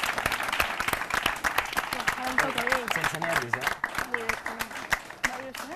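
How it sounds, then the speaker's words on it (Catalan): Studio audience of a Catalan TV word-game show applauding a contestant who has been eliminated, with clapping running throughout, mixed with talk and music-like tones. "L'aplaudim, que ha estat difícil."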